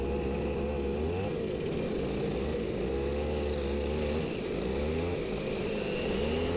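Racing karts rounding the final corner and accelerating for the start of a race at Milton Keynes International, a pack of high-pitched buzzing two-stroke engines rising and shifting in pitch, loud and continuous.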